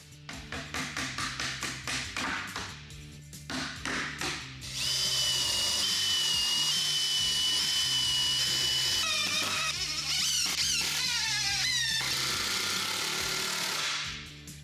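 A power drill drives screws to fix a shelf in place, first in a series of rapid pulsing bursts, then in a long sustained whirring run that winds up and down, loud and close with no talk.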